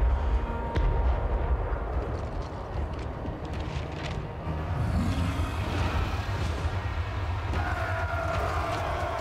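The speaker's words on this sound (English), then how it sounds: "Cannons fire upon the defenders." Cannons fire in a Total War Warhammer 3 battle, booming among a dense, continuous rumble of battlefield noise, with scattered thuds and a rising tone layered on top, moderately loud throughout.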